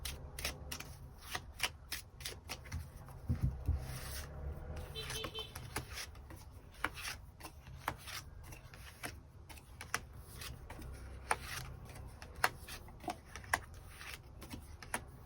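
Tarot cards shuffled continuously and close by, a dense run of rapid riffling flutters and slaps with no talk.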